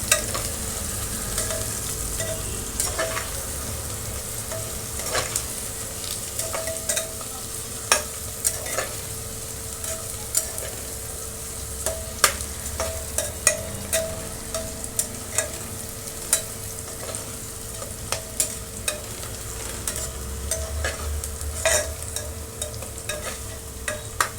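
Garlic-ginger paste and onion fry steadily in hot oil for an aloo matar pulao, a continuous close sizzle with frequent sharp spatters and pops throughout, no voices.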